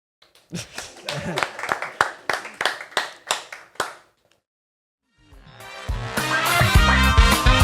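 Roughly a dozen sharp, separate handclaps ring out in a loose rhythm during a podcast recording. A brief silence follows, then louder sound swells in.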